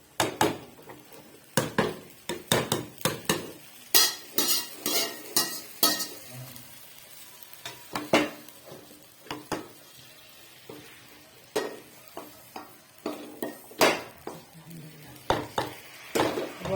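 Spices sizzle and crackle in hot oil for a tempering (tadka) for chicken nihari, while a spoon clinks and scrapes against the pan in irregular bursts, close by.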